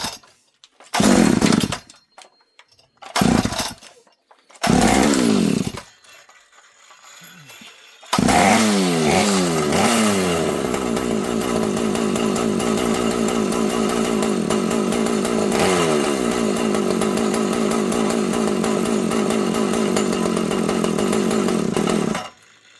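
A Pioneer P61 chainsaw sputters through several short cranking bursts, catches, then revs up and runs at a loud, sustained, rough idle-to-high roar, close by with no talking.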